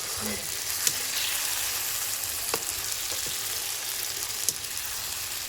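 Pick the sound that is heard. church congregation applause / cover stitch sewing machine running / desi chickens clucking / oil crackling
oil crackling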